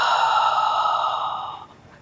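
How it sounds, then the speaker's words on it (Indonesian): Deep exhale during a shoulder-strengthening exercise, one long, close breath out with a soft airy hiss that fades away over about two seconds, heard alone. "Tarik napas, inhale. Exhale."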